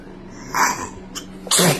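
A person sneezes indoors in a house bathroom, a short sharp burst with a small intake before it, close and loud, with nothing else around it.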